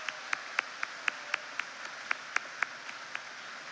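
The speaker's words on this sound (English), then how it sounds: "please join me in applauding their efforts." Sparse, faint clapping at a 2016 school graduation ceremony, a dozen or so distinct claps in a slow, fairly even rhythm, sounding distant and thin rather than like a full audience.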